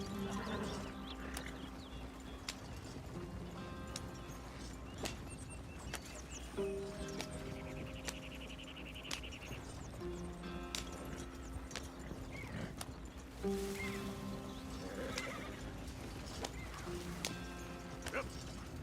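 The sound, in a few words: horse ridden at a trot, from video game Red Dead Redemption 2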